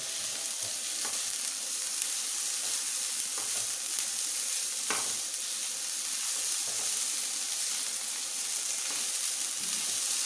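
Garlic ginger paste fries with light brown onions in a pan for aloo gobi, a constant close sizzle with occasional spoon scrapes and taps as it is stirred.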